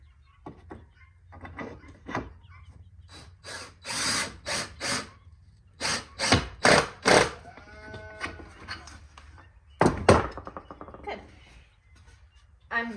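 A drill drives bolts through pilot holes into the wooden ends of a homemade level, in repeated short bursts with pauses between them, loud and close, with a longer run near the end.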